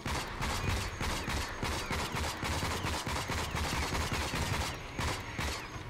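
Rapid gunfire in the video game Rage: dense, continuous bursts of automatic shots rattle without pause, loud and close.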